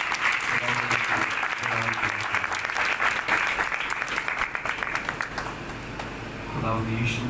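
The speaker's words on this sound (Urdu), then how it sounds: "زوردار تالیوں" Audience at a church sermon applauding loudly, dense sustained clapping that tapers off toward the end, with voices heard over it.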